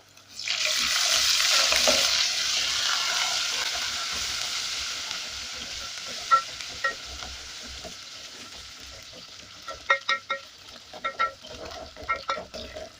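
Ginger sizzles loudly as it hits hot oil in a pot of beef pilau, and the hiss then settles into steady frying. Near the end a spoon scrapes and taps against the pan in irregular strokes.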